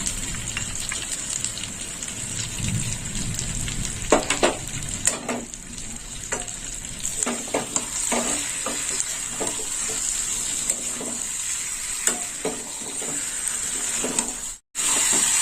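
Cashew paste being stirred into a frying curry of parshe fish with brinjal, a steady close sizzle with frequent scraping and clacking of a spatula against the pan throughout.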